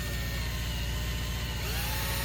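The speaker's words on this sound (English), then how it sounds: "I'll just pre-drill with an 1/8 inch bit right here." A power drill with a 1/8 inch bit pre-drilling a hole in an RV cabinet, its motor whining steadily and loudly throughout, nearby and without talk.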